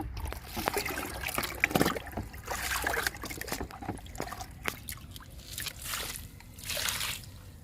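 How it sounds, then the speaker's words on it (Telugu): Liquid fertilizer poured into potted plants, soft intermittent trickles and splashes onto soil with small handling clicks, fairly faint and close. "ఇప్పుడు లిక్విడ్ ఇస్తున్నా"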